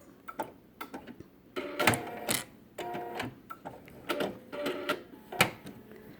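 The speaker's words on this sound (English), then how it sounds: "I'm going to sew clear to the very end" A Bernina sewing machine with a binder attachment stitches binding to the fabric's end in short mechanical bursts of clicking and whirring, pausing between runs with no talk.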